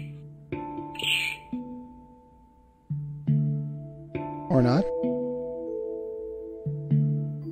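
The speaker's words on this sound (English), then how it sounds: "Hello, bird. Can I clip one of your wings?" A bird in the game Cube Escape: Paradox gives short harsh squawks, one near the start and a louder warbling call midway, over tonal game music and chimes.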